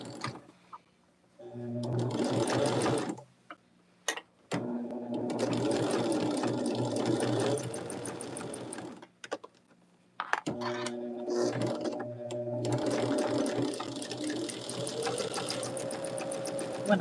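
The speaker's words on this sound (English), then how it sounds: "we're going to sew again each one of those rows, columns, whichever direction they're going in" A domestic sewing machine stitches rows of a Churn Dash quilt block in three long, steady runs of close, rapid mechanical whirring, separated by brief pauses with small clicks.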